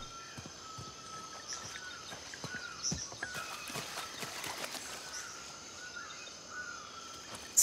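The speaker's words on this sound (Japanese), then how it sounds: "鳥もうるさいな。" Birds and insects fill the outdoor ambience of the video game Uncharted 4, with a steady high insect drone and scattered bird chirps at moderate level and no talking.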